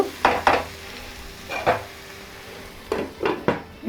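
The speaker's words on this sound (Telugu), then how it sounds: "ఇవన్నీ వేసి ఒకసారి బాగా కలిపి" A spoon stirs onion egg fry curry in a pan, scraping and clanking against the metal in several separate strokes, paired strokes then single ones, over a faint sizzle.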